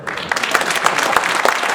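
An audience at a live concert applauds with dense, steady clapping from a crowd, loud and sustained for the whole moment.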